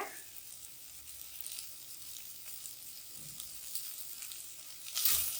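Poppy seeds fry in a pan for chicken sambar, giving off a soft, steady crackling sizzle with faint stirring noises and a slightly louder burst at the end.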